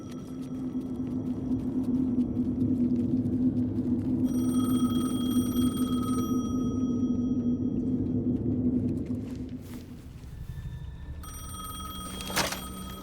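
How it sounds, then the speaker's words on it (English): A payphone in the Alan Wake 2 video game rings in repeated electronic bursts over a steady low rumble and hum, and the rumble fades toward the end. "The payphone was ringing."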